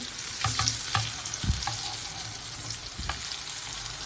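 Chicken shami kababs frying in hot oil give a steady crackling sizzle, broken by several soft scrapes and knocks of a spatula or utensil at irregular intervals.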